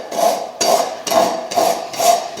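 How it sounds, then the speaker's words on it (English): Rasp filing the edge of a horse's hoof boot in five even back-and-forth strokes, close and dry with a gritty scrape on each pass. "simply take your rasp."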